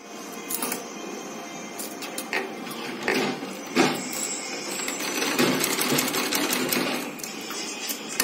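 A sewing machine stitches homemade hand gloves with jeans thread, running in a fast, steady mechanical whir with a few brief pauses and changes in pace, loud and close, with no voices.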